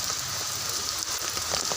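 Steady rain falls outdoors, a moderate hiss dotted with individual drops pattering on nearby surfaces, fairly close and without voices.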